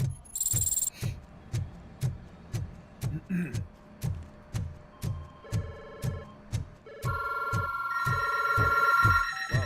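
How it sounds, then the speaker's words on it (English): A telephone rings repeatedly in a steady rhythm of short bursts, fairly loud and close, with electronic tones layered in toward the end. "Oh no. Incoming calls."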